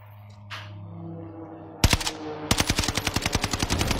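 Video game gunfire in Warzone: two sharp shots, then a rapid, steady automatic burst of about a second and a half, loud and close.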